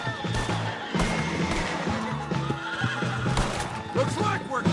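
A horse neighs in the Red Dead video game, loud whinnies over clip-clopping hooves and crashing game sounds, with voices talking throughout.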